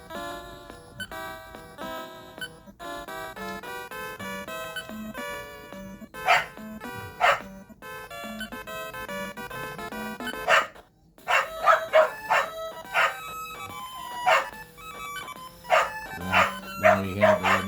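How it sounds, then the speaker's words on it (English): Dogs bark in short repeated bursts in a retro role-playing video game over a busy, tinkling electronic melody, with the barks growing more frequent toward the end. "got kind of distracted by the barking dogs"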